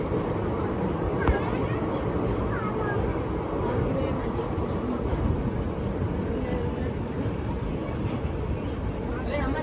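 Krishna Express pulling out of Vijayawada toward Secunderabad, heard from inside a sleeper-class coach: a steady, dense rolling rumble with rattling that holds at an even level for the whole stretch.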